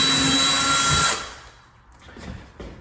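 A power drill with a 3/16 inch bit whines loudly for about a second, drilling a hole in drywall, then stops, leaving faint rustling and handling noises.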